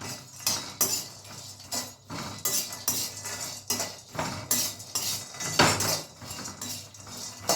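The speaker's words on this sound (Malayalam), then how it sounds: "കരിയാതെ ഇളക്കി കൊണ്ടേ ഇരിക്കണം" Roasted gram being stirred in a metal pan with a spoon, giving repeated clinking scrapes in an uneven rhythm, close and fairly loud.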